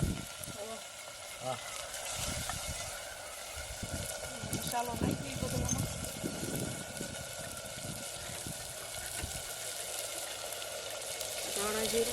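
Moong dal frying in a pan, a steady, moderately loud sizzle and bubbling crackle that runs the whole time, with occasional scraping stirs and a voice speaking over it.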